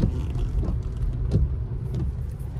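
Congested road traffic near Khadakwasla Dam in Pune during heavy rain, a close, steady low rumble of idling and slowly moving cars with a few passing engine swells.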